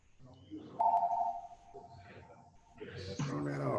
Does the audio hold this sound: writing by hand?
no